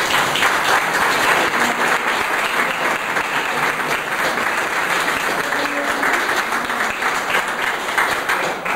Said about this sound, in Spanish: Gracias a todos y un aplauso.